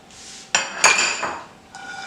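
Dry fruits are tipped into a bowl with a few sharp clinks and clattering knocks against the dish, followed by a fainter ringing rattle near the end.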